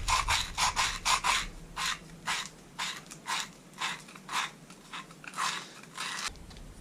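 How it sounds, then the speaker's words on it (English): Emery cloth scrubs oxidation off a copper pipe in quick back-and-forth strokes, a close, rhythmic rasping of about a dozen distinct rubs with brief pauses and no talk. "Just scrub all the oxidation off of the pipe itself."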